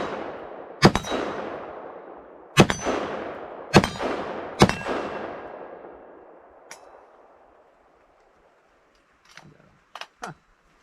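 Four sharp rifle shots from a Foxtrot Mike rifle chambered in .223 Wylde ring out at a range, each with a long decaying metallic ring off steel targets. A few fainter pings and clangs follow after a quiet gap.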